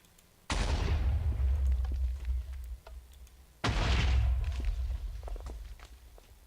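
Two loud fireball explosions from a cannon tower in Minecraft, each a sudden booming blast that rumbles and decays over a couple of seconds, spaced about three seconds apart.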